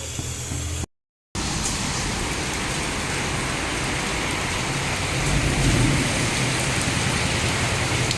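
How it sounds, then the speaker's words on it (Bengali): Heavy rain falls in a dense, steady roar close by, with a low rumble swelling near the end. A brief cut of silence comes early, and no one speaks. "এখানে বৃষ্টি শুরু হয়ে গেছে পুরো জল কাট আসছে"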